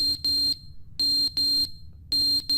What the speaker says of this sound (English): Oh, smoke alarm. That's just the battery.